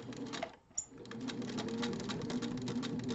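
A Singer 201 sewing machine runs in a rapid, even mechanical patter after a brief pause, with a steady close hum under the stitching.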